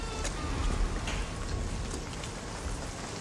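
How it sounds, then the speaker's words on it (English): Steady rain falling outdoors, a dense continuous patter of drops on surfaces at a constant moderate level, with no voices. "Oh, it's gonna rain, baby."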